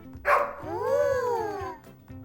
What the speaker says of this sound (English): My deseo was that my dog, Boots, could talk to me